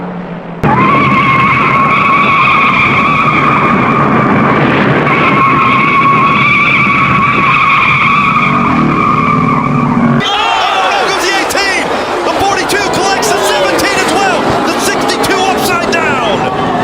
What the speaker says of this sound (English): A car's out of control.